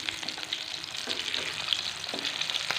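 Aloo tikki frying in a pan after being flipped, a steady close sizzle with soft crackling pops scattered through it, fairly quiet, with no talk.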